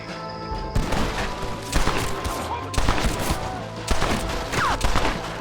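Volleys of gunfire from a shootout in the western video game Red Dead Redemption, loud bursts of overlapping shots repeating every second or so over a music bed, with some talk mixed in.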